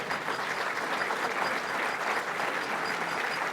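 An audience claps steadily for a police union president's wife at a Fraternal Order of Police Chicago Lodge event, a dense, even round of applause from a roomful of people, moderately loud with no talking over it.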